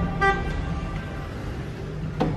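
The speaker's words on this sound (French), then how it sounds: "Ça klaxonne." Car horns toot in the street below a Bucharest balcony, a clear honk near the start and another near the end over constant traffic hum.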